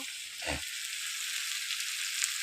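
Snake gourd and potatoes frying with onion in a pan give a soft, even sizzle that stays faint and steady, with one brief low knock near the start.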